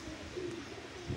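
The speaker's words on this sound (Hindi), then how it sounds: "सारे कबूतर माशाल्लाह नीचे आ गए हैं।" Pigeons cooing softly on the ground near feeding chickens, a low murmuring coo rising briefly twice over a quiet background.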